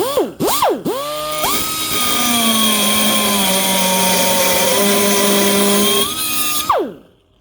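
Harbor Freight Chief professional 1/4 inch air angle die grinder revving in a few short bursts, then holding a steady high-pitched whine for about five seconds before spinning down, loud and close with no talk.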